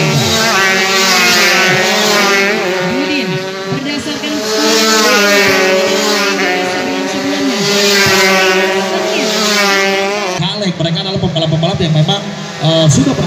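125cc two-stroke underbone motorcycles race at an Indonesian club championship, with loud, wailing high-revving engines rising and falling continuously as a commentator talks over them.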